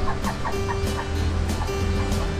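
Pet lovebirds make a string of short chirping calls over a loud constant hum, with the calls spaced irregularly through the moment.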